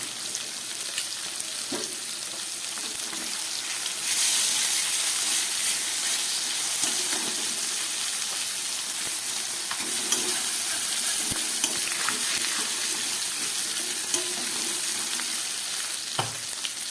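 Sarputi fish fries in mustard paste with green chili, sizzling and crackling in a pan with occasional stirring scrapes; the hiss swells louder partway through and continues without talk.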